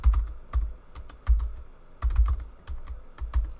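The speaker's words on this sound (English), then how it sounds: "I'm just typing" Someone types on a computer keyboard, close up, in uneven bursts of quick clacking keystrokes with short pauses between runs. No voices are heard.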